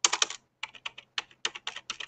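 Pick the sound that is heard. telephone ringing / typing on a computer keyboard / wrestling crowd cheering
typing on a computer keyboard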